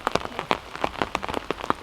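Rain falls steadily at a camp build site, with distinct drops pattering and tapping on a surface in an irregular, close rhythm throughout.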